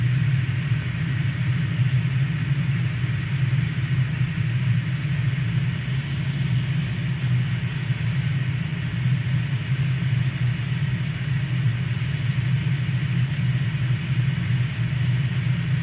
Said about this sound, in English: Waiting for this second engine to make it all the way up,